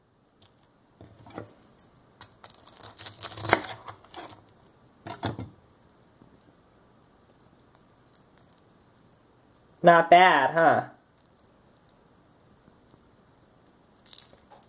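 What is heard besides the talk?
crunchy fried batter being cut open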